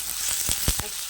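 Chopped garlic frying in a hot pan gives a short burst of steady sizzling hiss, broken by a few soft thumps and clinks, with no voices.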